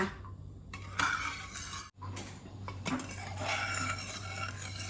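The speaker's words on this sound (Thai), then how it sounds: "คนให้เกลือกับน้ำตาลทรายละลายค่ะ" A spoon stirs sugar and salt into a liquid to dissolve them, producing steady scraping and light clinking against a bowl or pot. The sounds are close and continuous, with one brief pause partway through.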